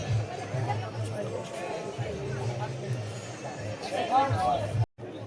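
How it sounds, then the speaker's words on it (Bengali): Bathers crowd the ghat at Kashi in the early morning, their chatter a constant babble beneath a close voice speaking, ending with a brief dropout. "ঘাটে স্নান করার কেমন ভিড় দেখো।"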